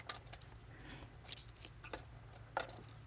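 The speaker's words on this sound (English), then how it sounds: "I cut that one panel, and then I go ahead and cut this pocket" Scissors snip through a cardstock pocket for a handmade gift card holder, giving a few faint, sharp cuts spaced apart in a quiet room.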